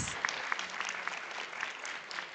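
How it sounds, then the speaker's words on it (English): Audience at a live Indian Army quiz quarter-final event in Kolkata gives a round of applause, a sustained, moderately quiet patter of many hands with distinct individual claps standing out. "Can we have a big round of applause?"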